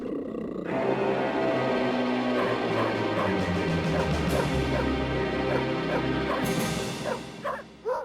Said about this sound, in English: Here's a dog